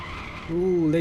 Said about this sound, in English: Ooh, late braking